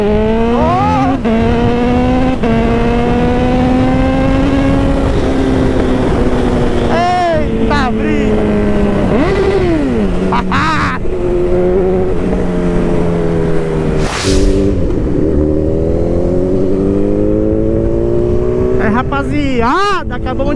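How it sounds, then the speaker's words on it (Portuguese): A Honda CB1000 motorcycle engine revving hard on a dynamometer, loud and close, with rising and falling engine pitch through repeated throttle sweeps and voices talking over it. "A CB1000 já esquentou, então não esquenta, a gente já pode dar aquela acelerada louca"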